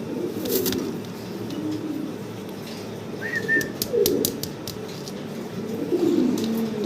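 Red bar Mundi fancy pigeons coo in soft, low bursts with a few brief higher chirps and wing rustles, close by and without talking.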